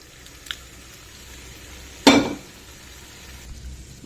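Ready tempering is added and stirred into a green chilli and amla chutney in a home kitchen with the stove off, giving one short, fairly close sizzling clatter midway that fades within half a second, with a faint tap before it and quiet room tone otherwise.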